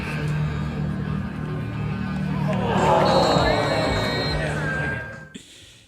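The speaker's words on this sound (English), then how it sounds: "you could just hear the crowd reaction compared to what they expected" A stadium crowd at a football game reacts with a swelling murmur and groans that rise to a loud peak midway, then cut off abruptly; no clear speech stands out over the babble.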